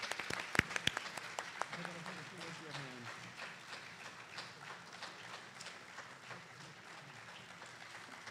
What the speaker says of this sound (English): how about a round of applause for both of our finalists?